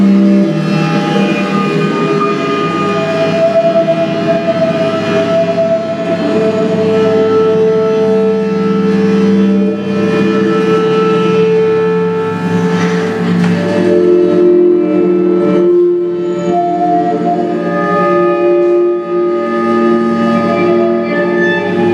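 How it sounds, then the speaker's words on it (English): A mechanical piano machine plays together with a small ensemble of instruments, sustained tonal chords and melodic lines blending continuously at a steady, fairly loud level, with no talking. "how this piano machine sounds alongside instruments"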